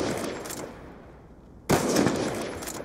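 Bursts of gunfire in the shooter Call of Duty: Black Ops 2, one rapid volley at the start and a second loud burst later, separated by a quieter gap.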